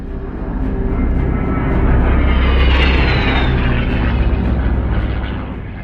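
A-10 Warthog jet flying past, a loud sustained roar that swells to a peak midway and eases off, steady and broadband with no voices.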